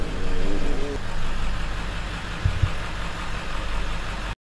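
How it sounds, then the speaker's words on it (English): A golf cart fitted with mud tires idles nearby with a low, steady engine rumble, a brief higher tone at the start and a couple of small knocks before it cuts off abruptly. "Dude, that's a sick golf cart. They got like mud tires on the thing."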